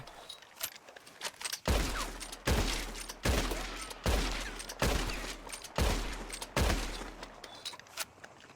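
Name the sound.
gunfire shooting at a tree in Red Dead Redemption 2 video game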